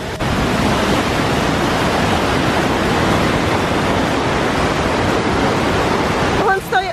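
Powerful rushing water at the Lutica river spring in Montenegro, a short river fed by a huge clean spring, roars as a steady, loud, broadband torrent close by throughout, with a brief voice near the end.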